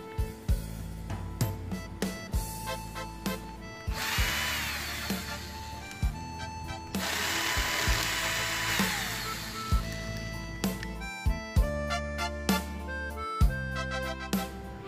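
A power drill or screwdriver removing two screws that hold a disc player's optical pickup, a close whirring motor in repeated short bursts with a couple of longer sustained runs, over steady background hum.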